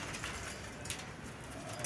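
Pigeons in a crowded breeder loft in Pakistan coo softly under a dense, noisy wash of background sound, brief and faint with no talking.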